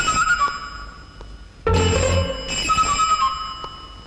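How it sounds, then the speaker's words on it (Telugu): A telephone rings in a house in an old Telugu film, with two loud bursts of electronic ringing separated by short pauses and no talking over them. "ఏమిటి సార్ ఫోన్ తీయడానికి భయపడుతున్నారు?"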